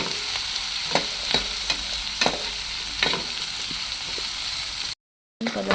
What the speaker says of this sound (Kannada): ಬ್ರೌನ್ ಆಗೋ ತನಕ ಚೆನ್ನಾಗಿ ಫ್ರೈ ಮಾಡ್ಕೊಂಡೆ